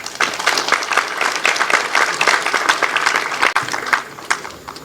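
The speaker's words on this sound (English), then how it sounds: "this definitely calls for a big round of applause" Conference audience applauding after a talk, a dense, sustained burst of many people clapping, loud and even, with no voices over it.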